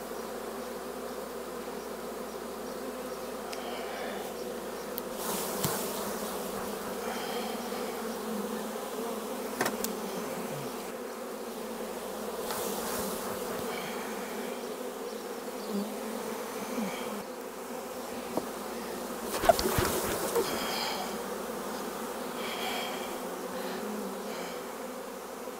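Honey bees buzzing on hive frames, a faint continuous hum of many bees close by, with a few soft knocks and rustles from handling the frames.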